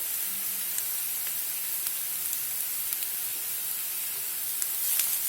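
Grated dry coconut roasts in a pan with onions for vada rassa, a steady soft hiss with occasional faint clicks of stirring, close and unbroken.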